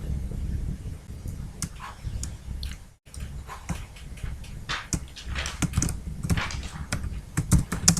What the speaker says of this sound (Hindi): सबसे पहले तो हम टाइप कर लेते हैं मंथ्स के नाम.